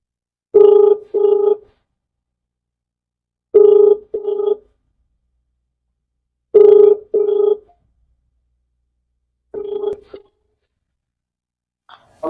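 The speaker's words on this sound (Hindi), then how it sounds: "डॉक्टर साहब फोन लगाए" A phone rings while a call is placed to a doctor, four evenly spaced double-burst electronic rings separated by silence, clear and close.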